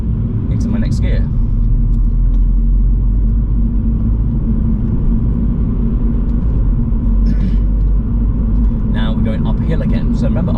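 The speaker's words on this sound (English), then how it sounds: "up a hill, the car needs that little bit extra power, so we're just going to add a little bit more gas" A manual car climbs a hill as gas is added, with a steady low engine and road rumble filling the interior and a few brief higher clicks and rattles on top; no one is speaking over it.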